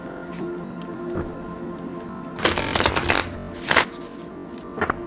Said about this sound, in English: Give one more shuffle.